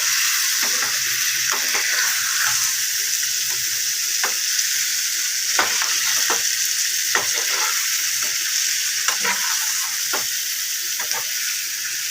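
Potatoes and eggs frying with spices in a pan for an egg garlic dum sizzle steadily, while a spoon scrapes and stirs in irregular clicks and scuffs throughout, with no voices.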